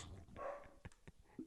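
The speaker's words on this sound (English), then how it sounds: "Then my dog starts crying in the other room." A dog whimpers and whines briefly from another room in a home, faint and muffled, with a few short cries.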